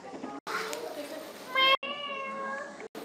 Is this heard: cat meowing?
yes